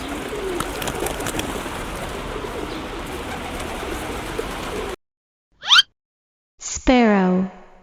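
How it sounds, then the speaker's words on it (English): A pigeon coos low and steady over a noisy outdoor background for several seconds. The background then drops out, and a voice speaks briefly near the end. "Pigeon."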